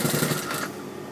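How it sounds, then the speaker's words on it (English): A sewing machine runs briefly while stitching piping cord close to the fabric edge around a neckline, a quick rapid stitching whir that stops partway through, close and fairly quiet. "we're going to sew close to the edge, going all the way around"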